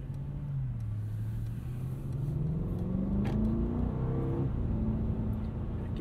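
A 2024 Mercedes-Benz GLS580 4MATIC's 4-liter engine accelerates steadily, its pitch rising through the gears with a deep, close rumble and no talking.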